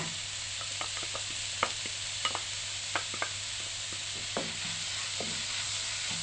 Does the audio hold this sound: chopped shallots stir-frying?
yes